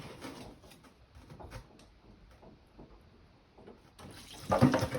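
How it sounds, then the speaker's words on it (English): Water gushes from a house supply line that has just been loosened and popped off, rising to a loud, splashing burst near the end after quieter trickling and handling sounds. "Oh, see, a big gusher there."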